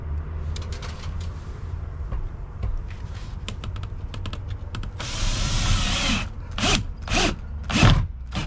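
A power drill drives screws into pre-drilled holes while a cabin room is built, starting with light rattling and tapping, then several loud whirring bursts of the drill near the end.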